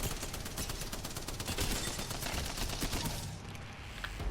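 Rapid automatic gunfire in Apex Legends pours into a training dummy, a dense, continuous stream of close, sharp shots lasting about four seconds and trailing off at the end, with no talking.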